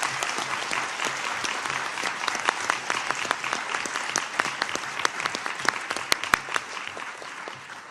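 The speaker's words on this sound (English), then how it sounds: "Let's give them another round of applause." Applause for a panel at a United Nations event, continuous full-room clapping at moderate loudness with a few sharper individual claps standing out, holding steady throughout.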